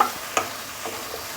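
Taro and prawns being stirred into cooked spices in a pan, with a brief scrape of the spoon and a soft sizzle over a short moment.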